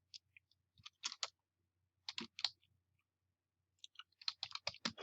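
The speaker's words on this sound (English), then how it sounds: "I'm just going to type it in." Typing on a computer keyboard in a quiet room, three short clusters of crisp key clicks separated by pauses, close and fairly soft, with no talk.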